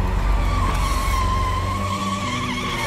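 A taxi skids before overturning in a horror story sound effect, a loud continuous roar of engine and tire scrub sustained throughout, with a rising squeal.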